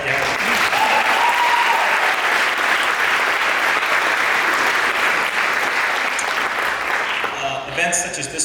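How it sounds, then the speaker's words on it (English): Sustained audience applause at a winter and spring school sports awards ceremony, a broad, even wash of many hands clapping that holds steady before tapering off at the end. "and then a little round of applause there"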